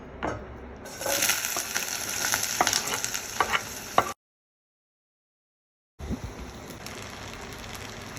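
A brinjal and tomato curry with onions, green chilies and chili powder being stirred in an oiled pan: a close sizzle with scraping spoon strokes, a sudden silent gap midway, then sizzling resumes.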